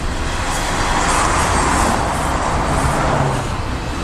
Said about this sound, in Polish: Będzie trwał czas jakiś bo pociąg jest bardzo długi.